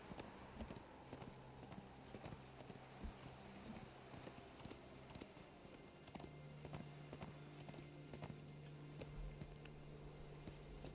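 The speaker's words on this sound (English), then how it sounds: "Horse." Horse hooves clip-clop steadily in the LOTRO video game, with a repeating walking rhythm of sharp knocks over a low ambient hum, fairly faint and without talk.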